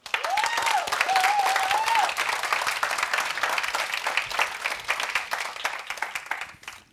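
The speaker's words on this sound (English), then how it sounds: "Please, everyone, give a warm round of applause for Dorcas." Warm round of applause from a conference audience at the Skoll World Forum for a speaker working on child streetism in Ghana, dense crowd clapping that holds steady, then slowly thins out, with a short vocal whoop near the start.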